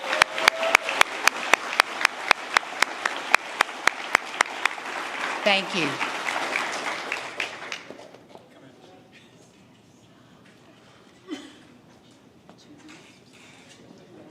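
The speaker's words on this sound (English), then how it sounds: "let's give all of them a great round of applause for all that they do" Audience applause at a 2024 university graduation, loud and sustained clapping for about seven seconds before fading, with a brief spoken thanks and then quieter room noise.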